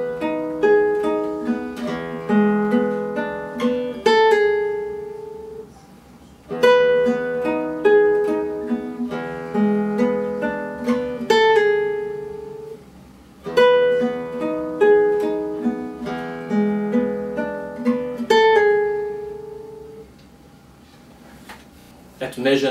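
Classical guitar playing measures 7 and 8 of a piece, with arpeggiated chord phrases and a pull-off ringing out clearly, falling into four repeated phrases of plucked notes that fade between them.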